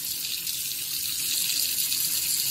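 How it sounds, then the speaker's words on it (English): Water runs steadily from a kitchen faucet, a constant hissing splash without pauses. "we'll go turn on the kitchen faucet and time the 30 seconds to see if it shuts off."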